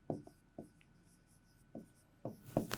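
Writing on a board during a classroom lesson, a few short, separate scratchy strokes and taps with quiet pauses between them, close and otherwise silent.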